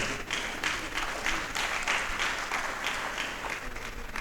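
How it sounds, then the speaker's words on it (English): Audience clapping at a matriculation ceremony hall, a moderate, steady patter of many hands at some distance with faint pulsing rhythm. "I thought you would clap for them."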